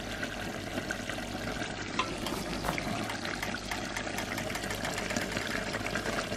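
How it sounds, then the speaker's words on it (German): Carrots, chicken and potatoes sizzle in a pan in Morocco, a steady dense crackling hiss with faint irregular pops, moderately quiet and continuous throughout, with no one talking. "da hat er Karotten reingemacht, Hähnchenfleisch, wie gesagt, Kartoffeln und das brutzelt jetzt so vor sich hin"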